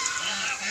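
A short burst of harsh, nasal honking from pet geese in their pen, close and fairly loud, with several overlapping calls.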